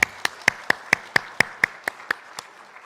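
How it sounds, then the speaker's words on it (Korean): A church congregation claps in unison, about eleven even, sharp beats in a steady rhythm that gradually fade, with no talking over them. "하나님께 영광의 박수 올려드리겠습니다."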